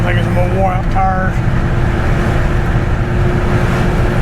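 Ford OBS truck cruising at about 50 mph, steady broadband road and engine rumble with tire noise throughout, a voice talking briefly near the start.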